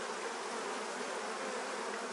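Honey bees buzz steadily at an open beehive during a colony inspection, a dense, continuous drone with no pauses, fairly soft and even, with no voices over it.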